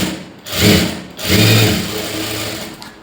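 A sewing machine stitches over bias binding on a lined blouse, running loud and close in two bursts with a brief pause between, its motor whirring steadily.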